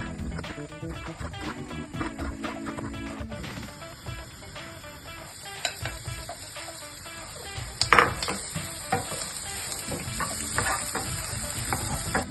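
Green peppers cook in a pan and are stirred, with a soft sizzling hiss under repeated utensil clatter and scraping against the metal, and a brief louder clank midway.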